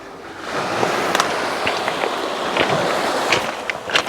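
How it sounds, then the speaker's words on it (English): Footsteps crunching over loose pebbles on a secluded, trash-strewn Gozo beach at Xagħra, with steady broadband crackle and several sharper near steps, over a soft wash of surf and wind. "You can hear I'm going on the pebbles"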